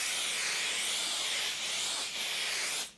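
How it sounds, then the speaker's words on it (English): Steady close hiss of 505 spray adhesive from an aerosol can being sprayed onto foam for a tote bag panel, one continuous burst for about three seconds that cuts off abruptly at the end. "I'm just gonna spray some of the glue on my foam"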